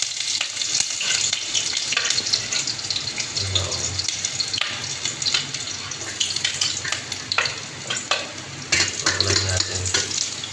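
Garlic sautéing in a pan sizzles and crackles steadily up close, broken by scraping stirs and a short rush of running water, with faint background voices.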